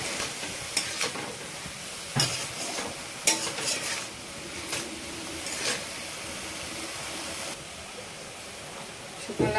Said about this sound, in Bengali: এটাকে এখন ভালো করে নেড়ে নিচ্ছি, সব মিলে যাবে এখন ভালো করে।